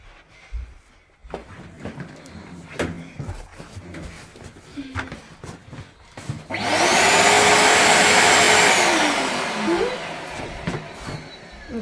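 A Henry vacuum cleaner roars to life partway through, running loud and steady as it cleans a dirty, smelly carpet. Scattered clunks and handling noises come before it starts.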